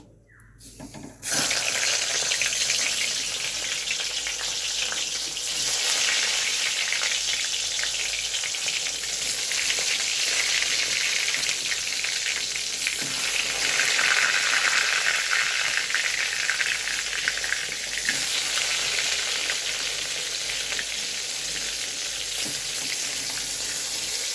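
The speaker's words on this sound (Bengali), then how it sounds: "এখন আস্তে আস্তে আমি বেগুন আর আলুটা ভেজে তুলব" Eggplant and potato pieces frying in hot oil for eggplant bharta give a loud, steady sizzle that starts after a brief quiet moment and runs on without talk.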